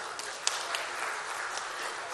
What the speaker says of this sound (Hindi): हम चाहेंगे आप सबकी जोरदार तालियां